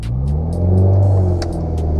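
A manual car's engine revs up and rumbles loudly and close as it pulls away from a stop on an uphill street, the pitch swelling then settling, with faint ticking above.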